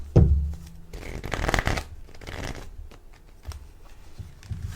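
Oracle cards for a tarot-style reading being shuffled by hand, a dense riffling burst near the start followed by steady soft sliding and flicking of cards, close and clear with no voice.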